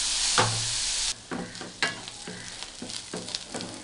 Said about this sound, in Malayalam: ഇത് നന്നായിട്ട് വഴണ്ട് വരണം, ലൈറ്റ് ഗോൾഡൻ ബ്രൗൺ ആവണം.